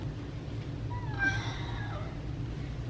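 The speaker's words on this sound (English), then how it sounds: "Look at this cat." A cat indoors gives a single drawn-out meow over a low, steady room hum, fairly close but not loud.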